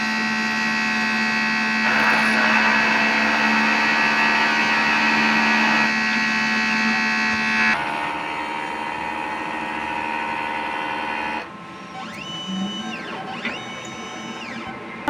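DTF printer running a print head cleaning cycle: loud, steady mechanical whirring and pumping with several changes in pitch, ending with rising and falling motor whines, close by.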